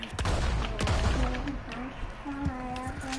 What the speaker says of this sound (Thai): เรายิงปืนขึ้นฟ้าครับ